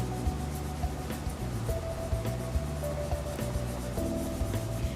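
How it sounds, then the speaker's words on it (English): Burnishing a painted wooden mid-century record player stand with a green finish, a steady repeated rubbing and rasping in back-and-forth strokes, close and fairly loud, with no talking. "And now that it's on, I'm going to burnish as I did before."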